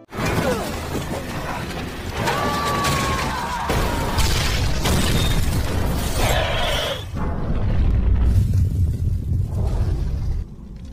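A bomb explodes in the 2013 film Odd Thomas, a loud, dense roar of crashing and shattering debris that rumbles on for about ten seconds, with a brief dip midway before the din swells again and then cuts off.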